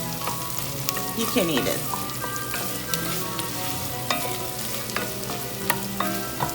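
Tomato paste frying in a pot for Turkish roasted tomato soup, a steady soft sizzle with scattered stirring scrapes and clinks, a brief voice speaking partway through.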